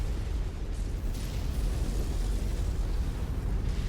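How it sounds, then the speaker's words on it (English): Continuous, heavy rumbling explosion noise from the mech combat game MechWarrior 5: Mercenaries, a dense, loud low roar holding steady throughout without clear separate blasts. "Things can explode!"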